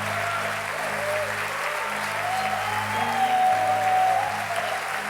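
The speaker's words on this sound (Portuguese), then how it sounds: "Gente, vocês podem aplaudir a Deus pela vida deles." A church congregation at an Easter play applauds steadily, a sustained bed of clapping over a low hum and faint tonal sounds, swelling slightly toward the middle.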